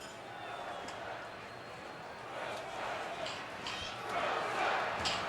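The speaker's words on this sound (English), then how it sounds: "And crowd chanting Wilson" Football stadium crowd at a 2006 Seahawks vs Broncos game, a broad sustained roar with swelling rhythmic chanting of a player's name, steady and dense throughout, rising louder near the end.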